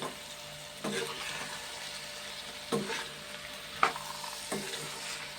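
Chana dal stirred in a frying pan sizzles softly and steadily, with a few sharp scrapes and clicks of a spoon against the pan, close but fairly quiet and with no talking.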